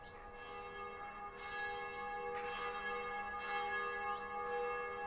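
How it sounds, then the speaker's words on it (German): Church bells toll in the video game Black Mirror, several strikes with long ringing harmonic tones that hang and overlap at moderate distance, steady and without voices. "Wer schlägt jetzt die Glocken?"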